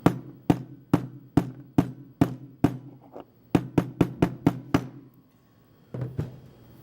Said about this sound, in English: Carefully just lay it on top, use your hammer, and gently